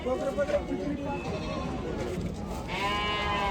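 Goats bleat at a busy goat and sheep market in Chakan, Maharashtra, with short calls rising through steady crowd chatter and nearby talking.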